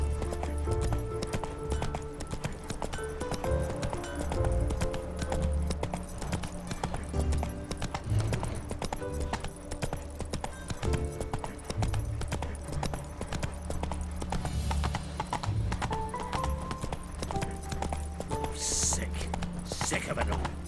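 Horse hooves clip-clop at a steady, rhythmic pace in The Witcher 3 video game, continuous and moderately close, with game speech and ambient sound mixed in.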